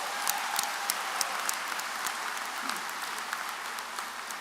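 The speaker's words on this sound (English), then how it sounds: "I think that deserves a round of applause." A high school graduation audience applauds, a dense wash of many hands clapping at moderate distance, steady for several seconds with scattered sharper claps standing out.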